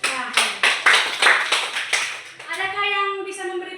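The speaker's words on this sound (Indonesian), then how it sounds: "Tepuk tangan untuk Rahel." A classroom of students claps for a classmate in a steady series of sharp, rhythmic bursts, several evenly spaced claps close by, followed by a sung or drawn-out children's voice chiming in at the end.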